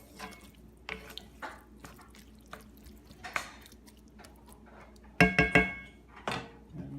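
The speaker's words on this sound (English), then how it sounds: "I'm gonna add some water, like a half cup of water here." Water poured into a pan of roasted eggplant, a few faint drips and wet squishing sounds early on, then a louder burst of splashing sizzle near the end, close and without talk.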